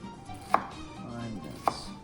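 Knife on a cutting board finely mincing food: two isolated sharp chops about a second apart, close and fairly quiet, with a soft room hum between them.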